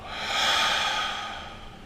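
A single long, steady exhale through the mouth during a guided beginner breathing exercise, a soft airy rush that swells and slowly fades over about two seconds, close and alone.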